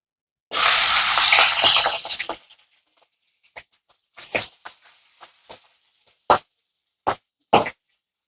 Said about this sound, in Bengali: দেখুন কড়াইতে সর্ষের তেলটাও ভালো করে গরম হয়ে গেছে। এবার আমি মাছের মাথাটাকে ভেজে নেব।